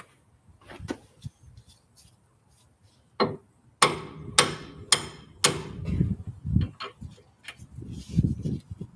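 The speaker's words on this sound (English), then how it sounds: "So let's go ahead and knock it out. If I can find my hammer." A hammer knocks out a part on a Foxbody car, with several sharp metallic strikes in quick succession, near and loud, followed by softer clanks and rattling.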